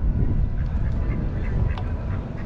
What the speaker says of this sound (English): Oh Lord, what we got here? A mallard duck.